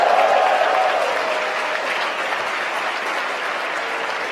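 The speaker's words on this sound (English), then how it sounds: "You can hear the applause from Mission Control." Sustained applause and cheering fill SpaceX Mission Control right after main engine cutoff and stage separation on a satellite launch with a reused rocket, loud and continuous from start to end.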